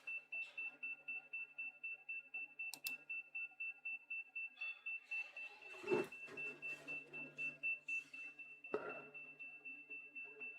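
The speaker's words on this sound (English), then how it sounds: "I don't know why my camera's beeping." A camera emits a steady electronic beep that repeats in a quick even rhythm throughout, with a person speaking softly over it and a couple of bumps.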